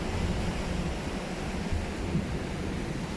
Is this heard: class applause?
no